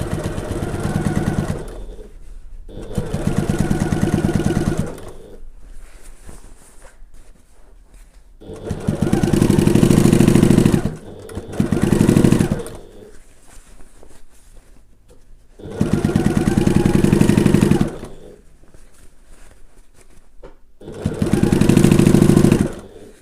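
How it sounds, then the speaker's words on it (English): Sewing machine stitching a gift bag side seam, including back stitching, in repeated loud bursts of rapid mechanical chatter separated by brief quiet pauses, close and alone. "I'm just going to do a little bit of back stitching here, and then carry on round to where I started."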